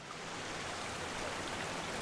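A waterfall rushes in the video game Dragon Age Inquisition, a dense, steady wash of falling water filling the whole clip with no break.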